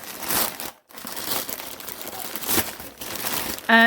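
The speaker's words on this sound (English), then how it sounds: "Excuse the crinkling." Parcel packaging crinkles loudly and continuously up close as a swap package is opened, with only a brief pause partway through.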